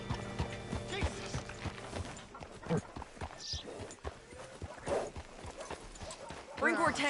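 Hooves clip-clop at a walking pace over hard ground in Red Dead Redemption 2, with creaking tack, a horse's snort and talking voices over the top.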